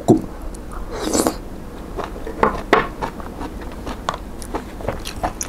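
Close, crunchy chewing of a wakame seaweed salad dressed with sesame oil, with repeated crisp bites and mouth sounds over a few seconds and no talking.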